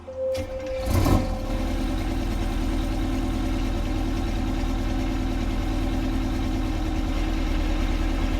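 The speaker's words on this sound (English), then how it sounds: "I love that startup sound on this engine. It's so cool. Just kind of barks into life." A heavy truck engine in American Truck Simulator cranks and barks into life with a loud burst, then settles into a steady, deep, rumbling idle that continues alone.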